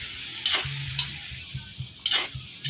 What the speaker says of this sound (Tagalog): Haluin na natin guys hanggang sa mag-mix siya ng maigi.